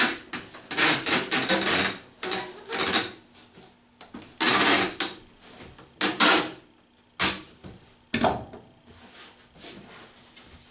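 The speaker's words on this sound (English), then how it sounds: "you can take your packing tape and tape all the way along" Packing tape being pulled off the roll and pressed along the edges of a handmade light box, in a run of loud, ragged bursts of tearing and rubbing with short pauses between them, close up and with no talking.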